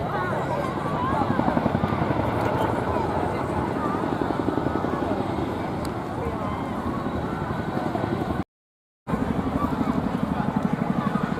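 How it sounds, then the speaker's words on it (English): Military helicopter performing a display at a seaside airshow, its rotor blades giving a steady, loud chopping thump with engine roar throughout, interrupted briefly by a short gap near the end. "getting a little taste of that delicious blade flap sound as the aircraft moves down"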